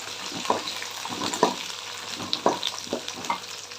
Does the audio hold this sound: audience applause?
no